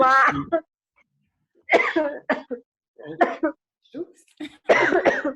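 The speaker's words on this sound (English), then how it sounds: "someone's having a coughing fit." Several bursts of harsh coughing and throat clearing come in quick clusters, separated by short pauses, close and fairly loud.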